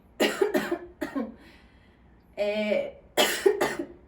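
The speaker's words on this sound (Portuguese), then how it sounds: "Tô tossindo." Several sharp coughs in quick bursts, close and loud, with a short raspy throat sound in the middle and quiet pauses between.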